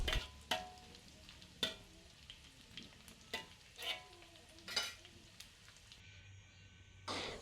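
Anchovies (ikan teri) fry in a pan, a soft steady sizzle broken by repeated sharp scrapes and clanks of a spatula stirring, fairly quiet and close.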